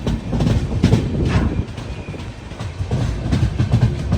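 A train pulls into platform 4 on its run from Villupuram to Tirupati, giving a steady rumble and low clatter of rolling wagons close by, with faint squeaks over the continuous noise.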